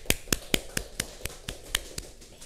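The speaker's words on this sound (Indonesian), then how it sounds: "Tepuk tangan buat kita semua." Classroom applause, a short burst of about ten sharp, evenly spaced claps, close and crisp, with no talk over them.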